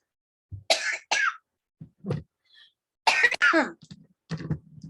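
Several harsh coughs and throat-clearing bursts in short clusters, close to the listener, with brief silent gaps between them.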